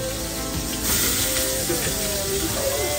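Food sautéing in a pan gives a steady, fairly loud sizzle with scraping stir noises, and faint voices sometimes rise in the background.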